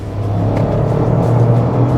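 A Toyota GR Corolla cruising at highway speed on an open road, with a steady, loud low engine and road hum that swells slightly, heard alone without talk.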